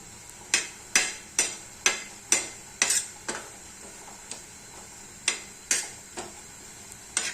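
Onion, garlic and coconut roasting in a pan for egg curry, heard as a regular series of sharp metallic clinks and scrapes of a spatula against the pan, about a dozen evenly spaced strikes, close and clear with little sizzle beneath.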